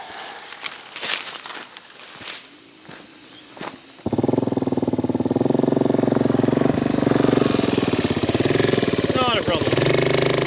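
An old Honda farm bike built for trails starts up and rides uphill, its engine a loud, steady, close drone after a few seconds of crunching footsteps and handling noises.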